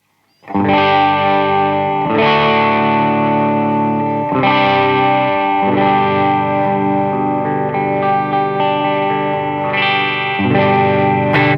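An electric guitar plays ringing chords with a clean tone with slight overdrive grit, strummed loud and sustained in several phrases.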